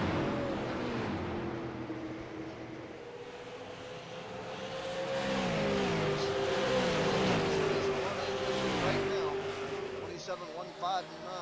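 Race cars lap the Phoenix racetrack during a Raceland Shootout Series event, engines droning and rising in pitch as they pass, with a commentator talking over the steady motor roar.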